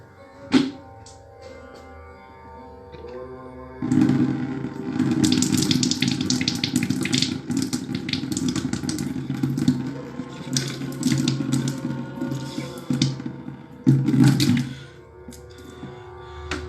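Water gushes steadily like a running tap as it pours out of the nose during a nasal rinse, a continuous splashing stream that starts after a few quiet seconds and stops near the end.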